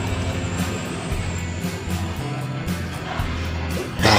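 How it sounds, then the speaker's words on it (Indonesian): A heavy truck's engine roars past nearby as it overtakes a bus on the Nagreg ring road, with low rumbling and a brief hiss near the end. "Ini yang jarang terjadi sama Pak Lili adalah disalip truk"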